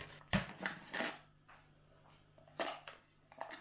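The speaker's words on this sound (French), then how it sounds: "On a des petits Pringles qu'on va tout de suite ouvrir." A can of Pringles is opened with several crisp tearing and crinkling bursts, a pause, then a few more rustles, close and fairly quiet.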